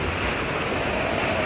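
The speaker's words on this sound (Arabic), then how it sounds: "شد المطر شد،" Heavy rain falls at night outdoors in Malaysia, a dense, steady, loud hiss of drops hitting surfaces with no pauses and no voices.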